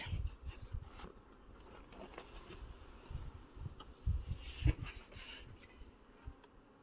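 A faint, steady hum of many bees buzzing around a hive, with occasional close thumps and rustling from handling frames.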